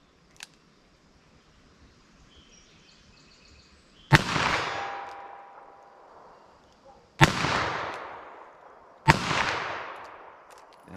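Three sharp rifle shots from CCI Uppercut .22 Magnum (.22 WMR) rounds, each a crisp crack with a short decaying tail, spaced a few seconds apart outdoors after a faint click.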